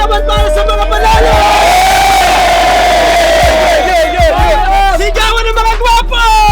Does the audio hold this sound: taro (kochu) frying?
no